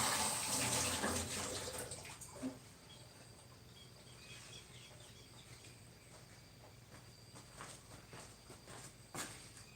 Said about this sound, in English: Wash my hands, I do that fairly frequently.